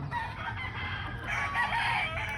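Backyard poultry farm chickens cluck and a rooster crows close by in a short, busy burst of fowl calls over a low background.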